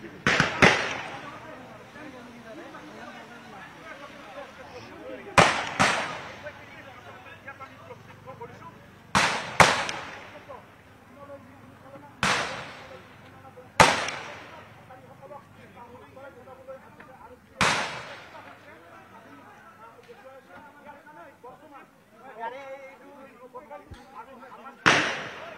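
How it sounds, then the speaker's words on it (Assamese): Police fire repeated gunshots into the air over protesters outside Baksa district jail, with tear gas also launched: about a dozen sharp, loud cracks at irregular intervals, each with a short echoing tail, under crowd noise and talk. "এই মুহূৰ্তত চাওক ধাৰাবাহিকভাৱে যি শূন্যলৈ গুলীচালনা কৰি থকা হৈছে"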